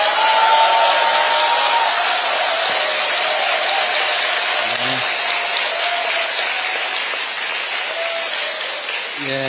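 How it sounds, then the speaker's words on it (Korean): Sustained audience applause fills a hall at a Daegu book concert, steady and dense throughout, with brief faint voices and cheers rising through the clapping. "응원 박수 한번 부탁드립니다"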